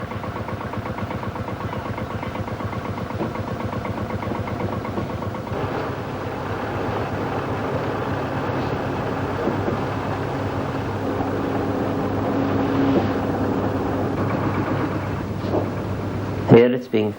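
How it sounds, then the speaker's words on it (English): A threshing machine driven by a belt from an adjoining tractor runs in a steady, loud mechanical drone with continuous rattling and humming throughout, ending in a few sharper knocks. "The thrasher is powered by a belt from an adjoining tractor,"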